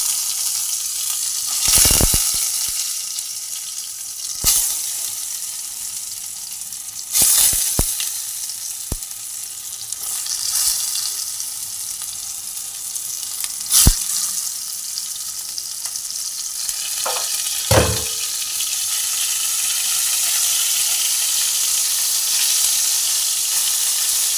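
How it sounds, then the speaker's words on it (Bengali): Pointed gourds frying in hot oil, a steady crackling sizzle broken by several sharp clacks and splashes as pieces drop in or are turned, close up with no one speaking. "তেল গরম হয়ে গেছে এবার আমি পটলগুলো ছেড়ে দিচ্ছি"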